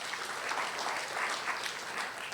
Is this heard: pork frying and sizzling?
no